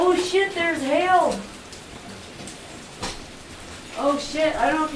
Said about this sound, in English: Oh my god, there's hail!